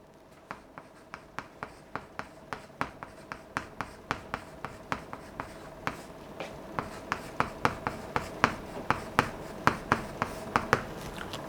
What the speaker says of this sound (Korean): 제가 옳지 않은 단어를 먼저 써볼게요.